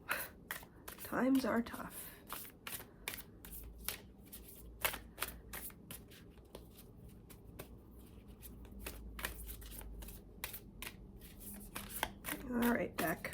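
A deck of cards being shuffled, its rapid riffling bursts and crisp snaps repeating through the clip under intermittent speech, with soft handling sounds between shuffles.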